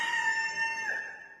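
A cartoon chicken gives a single drawn-out, tonal call lasting just over a second. It sounds close and faint, fades toward the end, and no voices are heard.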